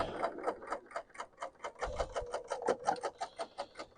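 A BERNINA L890 sewing machine stitching a flatlock seam, a rapid even mechanical clatter of needle strokes at a consistent speed, close and clear with no talking.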